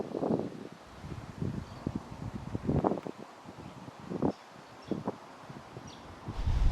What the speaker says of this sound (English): So actually there is a little bit of wind coming through.